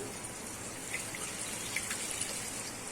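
Water pours steadily into a cooking pot while making Tamil Nadu style biryani, a continuous close splashing hiss with a few faint drips and no talk.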